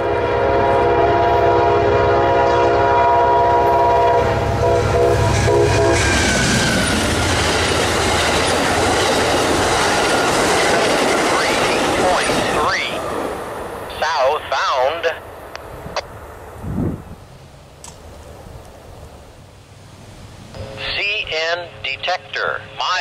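Amtrak City of New Orleans Train 59 races past the milepost 738.3 defect detector on a freight subdivision, sounding a loud sustained horn, then a roaring rumble of wheels that fades, with a voice heard near the end.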